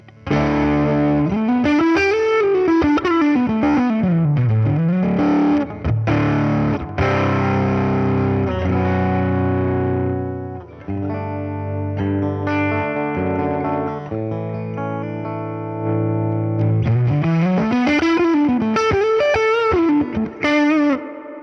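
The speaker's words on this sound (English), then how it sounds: "Try the vibrato channel, that should have a little bit more gain." An electric guitar plays through the vibrato channel of a Fender Tone Master Deluxe Reverb amp, sounding gritty and overdriven with swooping bends and sustained chords, loud and steady with no voices.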